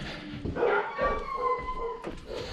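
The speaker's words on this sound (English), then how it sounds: "I upset their dogs" Upset dogs bark and howl nearby in a string of wavering, whining yips and howls, heard close with no talking.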